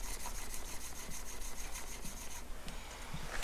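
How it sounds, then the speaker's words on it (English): Steel chisel plane blade rubbed back and forth on a sharpening surface to polish off the burr, a steady close-up scraping hiss in repeated even strokes with no talking. "Now my final step is to go in and just polish off whatever might be left of that burr."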